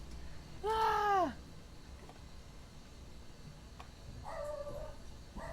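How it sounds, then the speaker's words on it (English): A dog lets out two separate bark-like yelps, the first louder and closer and the second shorter and fainter, over a steady low background hum. "There goes the dog again."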